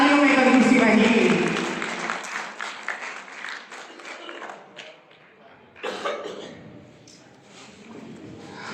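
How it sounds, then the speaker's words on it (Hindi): A crowd at a community welcome for guests gives sustained applause that is loud at first and then fades. A second swell of clapping follows, with some coughing and voices mixed in. "जोरदार तालियां, तालियों में कंजूसी रही।"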